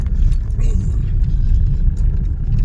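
A car being driven, heard as a continuous low engine and road rumble from inside, steady and fairly loud, with faint scattered clicks and no clear talk.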